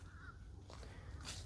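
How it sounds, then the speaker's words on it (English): A crow caws in woodland near a trail entrance, a few harsh calls at moderate distance over a steady low background rumble, with faint rustles between them. "You can hear a lot of birds."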